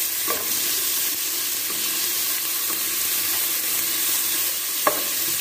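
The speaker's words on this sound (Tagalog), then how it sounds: "Ibigay muna natin ang sibuyas." Onions frying in a pan over low heat while cooking mussels, shrimp and octopus, a steady loud sizzle with occasional scrapes and knocks from stirring throughout.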